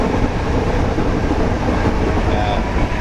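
Inside a small sleeper cabin on an overnight train to Düsseldorf, the running train makes a steady, loud rumbling drone with faint rail clatter and a brief high whine, no voices.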